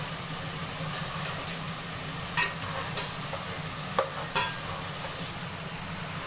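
Masala roasting in a pan for kadhi pakora, a low steady sizzle with occasional sharp scrapes and clinks of a spoon stirring, close by and without speech.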